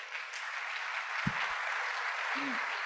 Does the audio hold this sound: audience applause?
yes